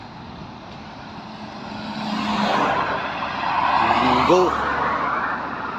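Vehicles roll past one after another at a stoplight on a busy main highway, a continuous road roar that swells twice with passing cars, with a person speaking and a brief horn-like tone.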